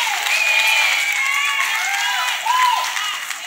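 Church congregation clapping and cheering in praise, with loud, continuous clapping mixed with sung or shouted voices throughout.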